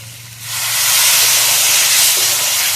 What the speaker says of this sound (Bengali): হালকা করে একটু জল দিয়ে দেবো।